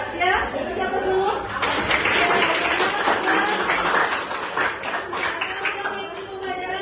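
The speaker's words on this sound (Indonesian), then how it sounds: "ibu kasih aplaus, ya" A classroom of children applauds together, steady clapping with chatter and light laughter mixed in, fairly loud and close, swelling after the first second and continuing throughout.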